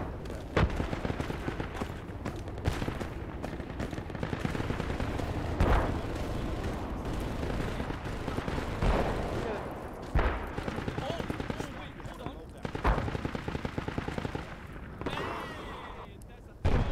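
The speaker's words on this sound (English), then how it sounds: "I just shot somebody in the head and they didn't die." Gunfire and artillery-like blasts from the military shooter game Project Reality, a dense, continuous battlefield din with repeated sharp shots and booms, under talk throughout.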